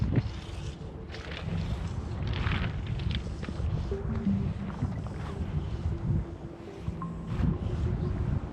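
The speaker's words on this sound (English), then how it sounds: "just as I put this on, the wind really starts to pick up" Winter wind picks up outdoors on a fly fishing trip, a steady broadband rush and buffeting across the microphone that sounds like rough water, with faint scattered knocks underneath.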